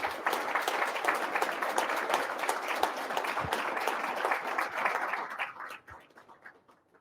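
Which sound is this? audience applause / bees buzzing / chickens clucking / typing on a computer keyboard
audience applause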